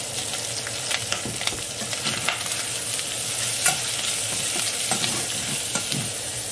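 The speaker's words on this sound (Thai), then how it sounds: "มันจะคั่วเครื่องก่อนนะคะ" Curry paste of lemongrass, kaffir lime leaves, shallots, fresh chili and garlic dry-fries in a pan for a pork belly and pineapple kaeng om, with steady close sizzling and repeated scraping strokes as it is stirred. No one speaks.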